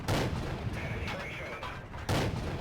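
A Crusader artillery gun fires in World of Tanks, with loud booming shots at the start and again near the end, a quieter rumbling stretch and faint tones in between.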